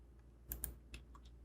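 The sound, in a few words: pressing the space bar on a computer keyboard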